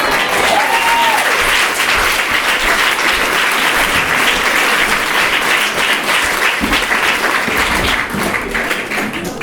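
An audience at a small theatre or cabaret venue applauds continuously, dense steady clapping from a full room that holds loud throughout and only begins to thin slightly at the very end.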